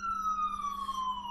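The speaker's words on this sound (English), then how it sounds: "sorry for the ambulance" An ambulance siren passing on 6th Avenue in New York City wails in a single long, slowly falling tone, faint and distant, with low traffic rumble beneath.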